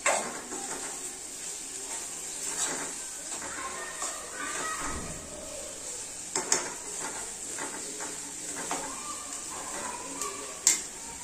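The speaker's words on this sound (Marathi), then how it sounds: "सर्व मसाले घालून झाल्यानंतर आता मी हे छान परतून घेते" Masala with coriander-cumin powder sautés in a pan for Maharashtrian matki usal, tomato cooked soft, giving a low, steady sizzle with scattered clinks and scrapes of a spoon against the pan.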